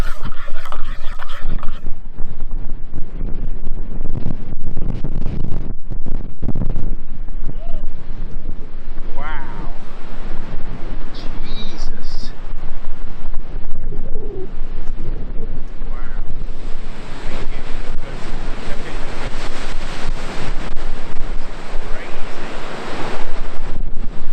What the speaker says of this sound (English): So incredibly windy again.